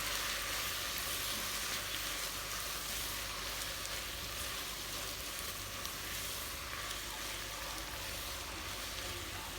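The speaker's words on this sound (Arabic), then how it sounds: "بقلبهم مع بعض منيح وبغطيها لحد ما تستوي معي اللحمة والبصل" Meat and onions seasoned with seven-spice and a Maggi cube sizzle steadily in a pot, a constant, close frying hiss with no pauses and no voices.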